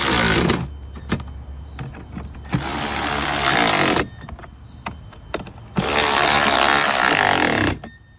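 A power tool tightens bolts on a Gorilla heavy-duty 7 cubic foot poly dump cart, giving three loud, sustained whirring bursts separated by quieter clicks and handling noise.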